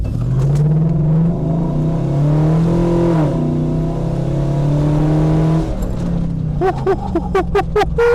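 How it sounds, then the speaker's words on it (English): A V8-swapped FZJ80 series Land Cruiser lets out a loud, sustained revving engine roar during a four-wheel burnout, its pitch rising and falling before dropping off into sharp popping bursts near the end. "Four-wheel burnout, oh my God."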